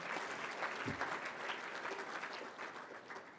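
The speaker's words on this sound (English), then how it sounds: "Give them a clap" An audience at an AFLW club champion awards night breaks into sustained applause, a dense steady wash of many hands clapping that holds evenly throughout without fading.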